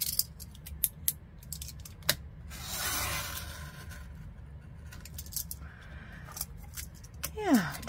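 Scissors snip through a cardboard pasta box in a few sharp, separate cuts with a longer rustling slice in the middle, close and fairly quiet against a low steady background hum.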